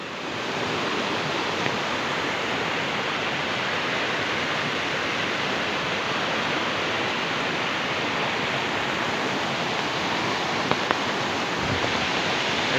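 River water rushes past in a constant, even roar that holds at the same level throughout, with no voices.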